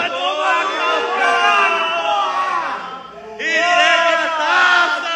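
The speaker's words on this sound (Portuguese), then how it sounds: "A torcida." Football supporters in a stadium crowd roar and chant together in a loud, sustained swell that dips briefly and then surges back up at full volume.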